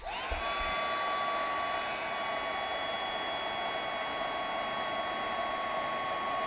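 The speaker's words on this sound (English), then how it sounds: "finish embossing it with my heat tool" A heat embossing gun blows hot air over embossing powder on a card background, a steady, loud, close whooshing hiss with a high whine that holds unbroken from start to end, with no talk.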